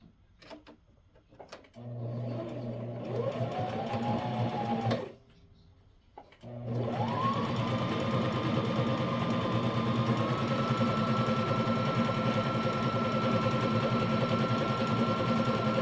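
A sewing machine stitches elastic onto a wool diaper cover with a steady motor whir and a rising pitch as it speeds up, briefly stopping before running on continuously and close up.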